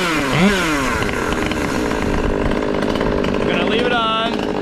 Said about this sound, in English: Hope you guys can hear me, but I don't wanna shut the saw off.